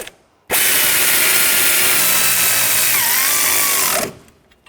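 A ball joint nut on a 2013-2019 Ford Escape run down with a 17mm wrench and socket, producing one loud, continuous mechanical whir of a few seconds that stops abruptly, with no talking.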